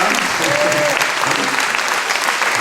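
A church congregation applauds for a performance, steady dense clapping filling the whole stretch at full loudness, with a faint sung or voiced tone briefly audible beneath.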